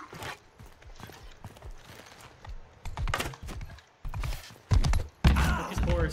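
Horses gallop during a battle in the video game Mount & Blade II: Bannerlord, with irregular hoof thuds and clatter that grow louder and denser toward the end.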